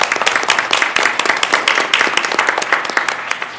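Dense applause from a school board meeting audience honoring student performers in the musical Pippin, a steady patter of many hands clapping close and loud with no talk over it.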